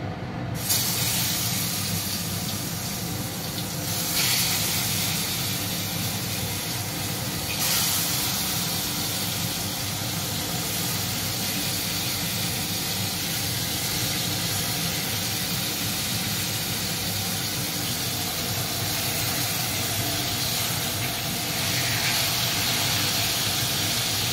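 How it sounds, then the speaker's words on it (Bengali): Salted, turmeric-coated sliced pointed gourd (potol) frying in oil in a pan, a steady, even hiss that holds without a break for the whole stretch, with no talking. "তো এখানে পটল ভাজা চলছে"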